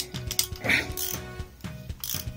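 A ratchet wrench clicks in quick, uneven bursts as it works stiff, over-tightened bolts on a Honda Super Cub 110 JA10 engine during teardown. The close, sharp clicks come with a few low knocks, and there is some faint speech.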